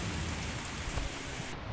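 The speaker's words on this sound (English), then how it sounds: "it started raining again." Steady rain falls in a continuous, fairly close hiss, with a few heavier drops pattering through it and no voices.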